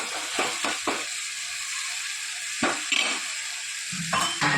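Onion and tomato gravy sizzling in a pan, a steady frying hiss broken by several short clinks and stirring scrapes, close and fairly loud.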